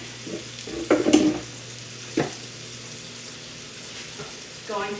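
Chicken cutlets fry in a pot with soft, steady crackling and a few louder sputtering bursts, close by, with no talk over them.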